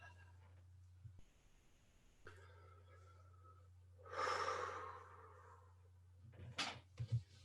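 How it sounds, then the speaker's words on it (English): During a heart-centred meditation, one slow, deep breath draws in and releases up close in a quiet room, then a few sharper exhalations follow near the end, with no talking. "So let's just everybody just take a couple deep breaths."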